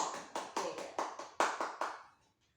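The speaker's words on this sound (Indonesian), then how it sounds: "terima kasih, tepuk tangan buat kita semua" A group of people clapping hands together in a burst of about eight sharp, rhythmic claps, fairly close, fading out after about two seconds.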